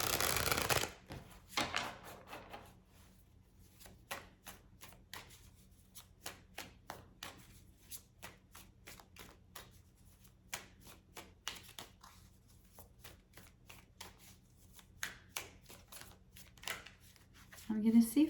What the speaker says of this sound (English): I feel like shuffling more